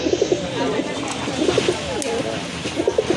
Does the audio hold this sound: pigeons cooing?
yes